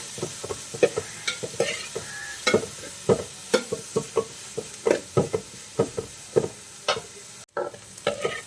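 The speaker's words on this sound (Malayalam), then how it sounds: "ഇത് നമുക്ക് നന്നായിട്ടൊന്ന് വഴറ്റിയെടുക്കാം" Chopped onions and shallots sautéing in coconut oil while a spoon stirs them, repeated scraping strokes in a steady rhythm over a soft sizzle, close and alone.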